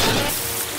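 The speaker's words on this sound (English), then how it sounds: "Rain." Steady, dense rain hisses down in a cartoon scene as a weather machine switches it on, a loud, even wash of drops throughout with no talking.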